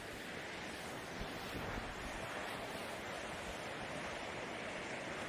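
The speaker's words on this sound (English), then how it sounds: "check out these waves right down here smashing off the rocks" Ocean waves smash against rocks on the Irish coast in a continuous, faint roar of surf, with wind buffeting the microphone and brief swells of louder crashing.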